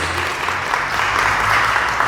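A Catholic church congregation gives a short round of applause for the word of God. Many hands clap together in a dense, fairly loud burst that builds slightly over two seconds.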